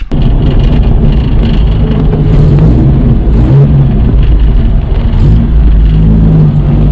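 A 1970 Datsun 521 pickup truck engine running rough with a fuel problem, loud and close, a steady uneven drone throughout with no talking.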